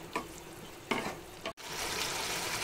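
Cauliflower and peas curry is stirred in a pan, with a few scraping strokes over a soft sizzle, then a brief cut and louder steady frying, no talk.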